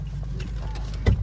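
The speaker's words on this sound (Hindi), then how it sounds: "भैया खिड़की बंद करेंगे," A power window closes in a 2022 Toyota Innova Crysta fitted with door damping and sound-proofing, a brief motor whir ending in a soft thump, heard inside the cabin over low engine rumble.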